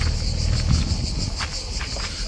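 Crickets chirp in a continuous high-pitched drone outdoors on the Chalkidiki coast in Greece, with low rumbling handling or footstep noise close by.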